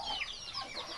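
A chicken at a rural home in the Philippines gives brief, faint clucks, heard quietly at a distance over a soft background hiss.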